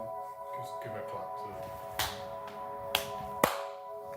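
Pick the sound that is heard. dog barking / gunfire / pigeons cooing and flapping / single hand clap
single hand clap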